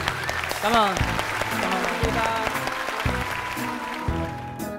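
Studio audience on a Vietnamese TV singing show applauds a Korean contestant, the clapping mixed under a host's talk and lively background music.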